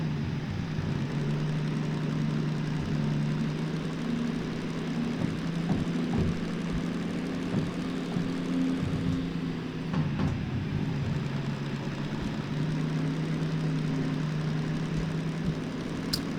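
A DM3 diesel locomotive engine in the Derail Valley train simulator drones steadily under load, with a low humming tone that shifts slightly in pitch. It plays alone, with no talking.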